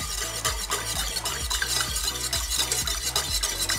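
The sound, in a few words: whisking egg yolk mixture in a saucepan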